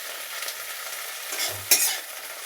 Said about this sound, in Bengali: এই সজনে ফুলটা প্রথমে তেলে একটু নাড়াচাড়া করে নিতে হবে, হাই ফ্লেমে দিয়ে একটু নাড়াচাড়া করে নিতে হবে